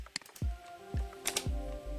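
Several quick keystrokes on a computer keyboard enter a command while drawing a lighting installation plan in CAD software, with close, crisp clicks and thumps in an irregular rhythm and no talking.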